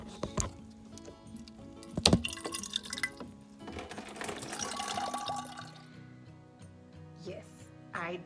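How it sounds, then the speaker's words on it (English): Water running from a tap into a water bottle and splashing onto the floor, a liquid trickle and drip under nearby talking with some background music. "I did just spill water on the floor from trying to get my water in my water bottle"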